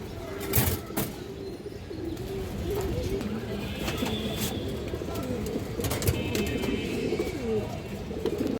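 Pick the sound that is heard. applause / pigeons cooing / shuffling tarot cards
pigeons cooing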